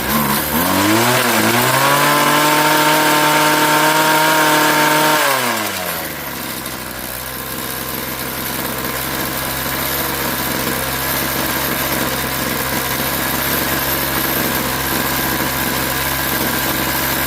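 A Craftsman 21cc gas hedge trimmer, run after sitting since last year, revs high, its pitch rising and holding, then drops to a steady buzzing idle that runs on, loud and close.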